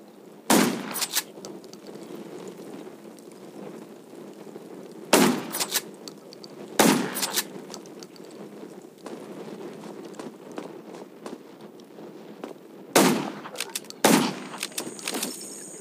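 Gunfire in the zombie survival video game Undawn: sharp bursts of shots come in separated pairs, loud and close, with quieter ambient game noise and movement between them.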